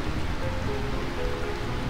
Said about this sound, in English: It feels as though the raindrops are blessing our victory.